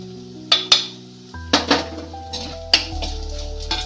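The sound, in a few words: spice powders added to hot oil in a pot, sizzling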